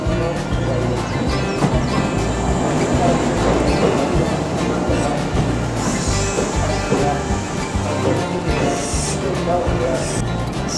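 A Kintetsu 4-car express train departs Tenri Station, a steady loud rumble of wheels and motors rolling along the platform, with birds and a voice faintly in the background.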